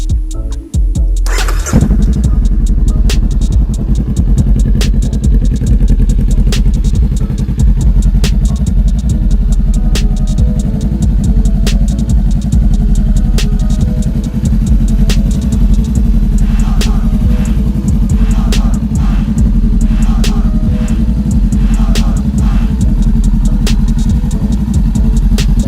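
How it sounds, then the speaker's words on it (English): A 2017 Honda Rebel CMX 500 motorcycle with a TBR exhaust fires up and settles into a loud, deep, throbbing idle close by, with a few sharp revs rising above the steady rumble. "let me get the bike started up for you guys. Let you hear what the TBR exhaust sounds like."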